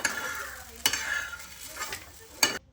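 Cluster beans roasting in a pan over a high gas flame, a soft steady sizzle broken by a few sharp scraping stirs, close and fairly quiet, ending abruptly.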